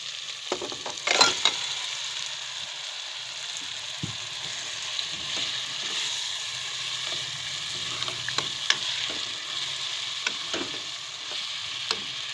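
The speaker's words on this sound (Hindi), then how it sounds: "मसाला हमारा थोड़ा सा भुन गया और इसके अंदर ही मैं मटन डाल दूंगी" Mutton sizzles in oil with spices in a karahi, a steady close frying hiss broken by occasional scrapes and knocks of stirring.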